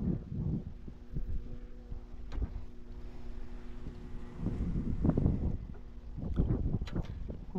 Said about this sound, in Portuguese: Tá ventando, atrapalha muito